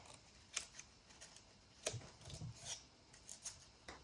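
Scissors snipping paper close by, scattered sharp cuts in an irregular rhythm, faint and quiet with no talk.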